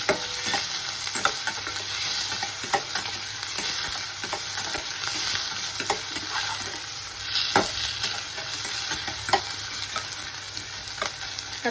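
Onions frying in a pan for a quick Maharashtrian onion zunka, with a steady loud sizzle and repeated scraping stirs throughout, no voices.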